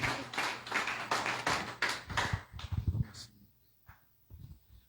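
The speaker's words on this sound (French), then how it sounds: "On applaudit l'homme de Dieu pour la gloire de Dieu." A church congregation claps in a short run of loud, rhythmic hand claps that thin out into a few scattered taps and quieter sounds.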